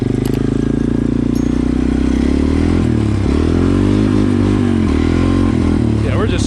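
Engine of a 1987 Honda TRX 350D ATV riding along in second gear, a loud, steady close-up drone that shifts pitch slightly throughout.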